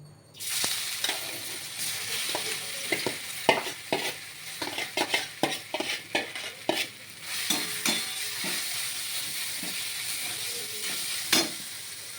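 Raw mango pieces frying in oil with two dried red chillies, a bright steady sizzle under rapid, rhythmic spatula scraping and stirring, close and fairly loud throughout.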